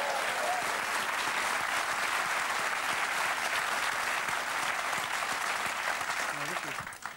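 A studio audience claps steadily and densely, a loud continuous wash of applause that holds for several seconds before fading out at the end.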